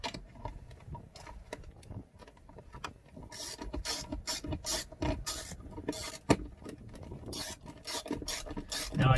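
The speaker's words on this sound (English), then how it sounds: "so I'll put the screws back in." Screws being driven back into a phone mount on a Jeep Gladiator, a rapid series of small scraping, ratcheting clicks and rubbing sounds, close and fairly quiet, with no talk.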